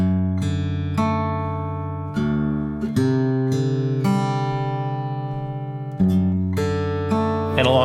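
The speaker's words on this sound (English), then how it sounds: "So I wanted to record another guitar track on top of the fingerstyle thing that I did" Overdubbed guitar picking single notes over a fingerstyle guitar part, a melodic line of clear plucked notes ringing and sustaining over steady chords, close and loud with no talking.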